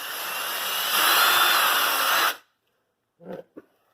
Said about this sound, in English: So we'll drill the second one right here.